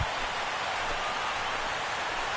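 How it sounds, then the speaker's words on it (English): Steady rain at Fenway Park in Boston in a baseball video game, a dense, even hiss of falling rain with no break, moderately loud and alone. "the rain's coming down pretty good here at Fenway Park in Boston"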